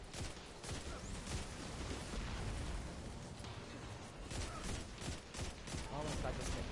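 Scout rifle fire in Destiny 2, a dense run of sharp gunshots and bursts amid game combat noise, with speech mixed in underneath.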